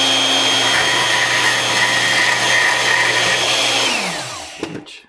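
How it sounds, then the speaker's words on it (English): A bandsaw cuts through a tape-wrapped part for an S&S sand car, giving a loud, steady whine that runs for a few seconds before the blade spins down and stops. "I use the bandsaw."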